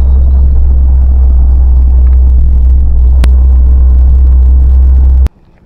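Auto rickshaw ride near Sawantwadi: a loud, steady low engine rumble and road noise run throughout, with one sharp click partway, before the sound cuts off abruptly near the end.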